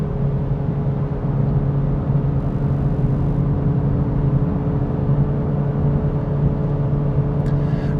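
An Acura Integra Type S drives along a mountain road. A steady engine drone and road rumble are heard from the cabin, with a slight dip in engine note around a gear change as the revs match, and no talk.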